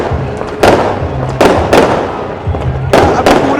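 Fireworks bursting during a New Year celebration in Carpi, Italy: a series of loud, sharp cracks and pops at irregular intervals over a continuous outdoor crowd murmur, with a voice talking.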